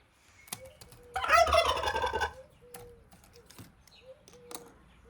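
Backyard chickens peck around a harvest basket, breaking into a loud, dense burst of cackling before settling into softer scattered clucks and light taps nearby.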